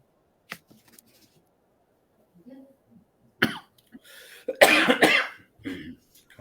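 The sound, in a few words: coughing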